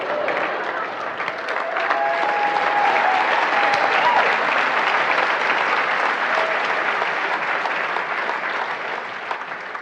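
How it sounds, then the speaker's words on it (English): An audience at a seminar gives a long, steady round of clapping, a dense even roar of many hands with a faint voice briefly audible within it. "They're clapping for you."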